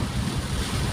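Floodwater in heavy rain rushes loudly and continuously around a vehicle, a dense churning roar with wind mixed in, filling the whole moment.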